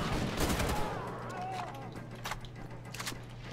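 Gunfire in Wolfenstein: The Old Blood, rapid bursts of shots crackling at moderate volume beneath a steady low hum, with a few sharp reports standing out.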